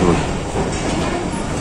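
A train rumbles steadily past platform 7 at Khanewal Junction railway station in Pakistan, a dense, continuous roar of rolling wagons heard close and without speech.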